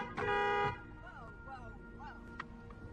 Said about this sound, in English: Did you honk at me, Sarah?